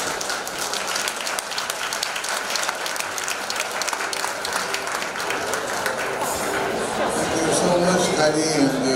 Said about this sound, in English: How about a nice round of applause for Charles Wang?